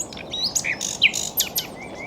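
A European insectivorous songbird sings alone, a rapid sequence of bright chirps and whistled notes in short bursts over a faint hissing background.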